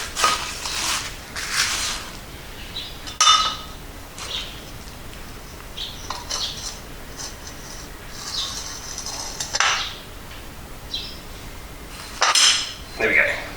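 Metal parts of a 1999 Yamaha R1 front fork clink and scrape as the outer fork tube slides onto the inner tube, with repeated close, bright metallic knocks and slides.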